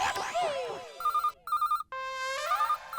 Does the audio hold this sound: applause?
no